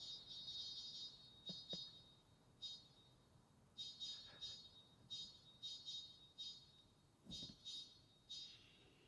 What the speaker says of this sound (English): It's such a weird beep.